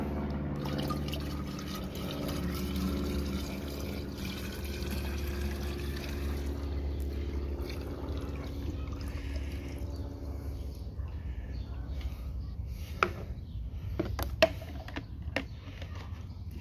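Water pours steadily into a garden sprayer for a long stretch, a continuous close gurgling fill with a few sharp clicks and knocks near the end.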